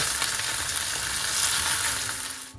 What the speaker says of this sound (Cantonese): 咁我哋散啲雞啦，繼續煎一煎佢